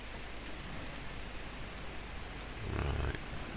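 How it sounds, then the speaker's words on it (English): Heavy rain falls in the farming game Farming Simulator 22, a steady broadband hiss with no speech that swells a little louder near the end. "it is chucking it down with rain"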